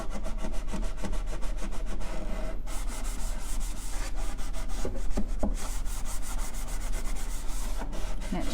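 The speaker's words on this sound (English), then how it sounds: "I'm just rubbing it in there really, really good" A finishing pad rubs finish into a wooden furniture drawer in a steady, close, scratchy back-and-forth scrubbing with a rhythmic sanding-like texture, continuous throughout without talking.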